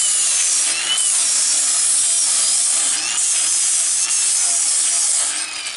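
Old, rough decking boards being sanded along their edges, a steady continuous abrasive rasp that stays loud and close throughout with no pauses and no one talking.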